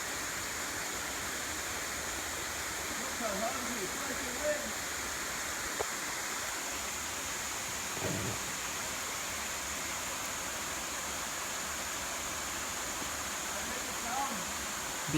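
Steady broadband roar of a waterfall in subtropical rainforest at South Kobble Creek Falls, continuous and fairly even throughout, with a few faint brief knocks and rustles on top and no speech.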